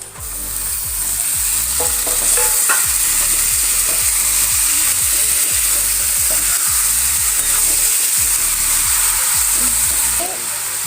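Mutton pieces sizzle loudly after going into hot oil for an Assamese mutton-with-curd dish, a steady broadband frying hiss running throughout with faint scraping of stirring.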